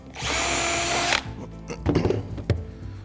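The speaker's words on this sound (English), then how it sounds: "Again, just pilot drill that, stop it splitting." A power drill whirs loudly for about a second, boring a pilot hole into wood, then stops, followed by a few close knocks and handling clatter.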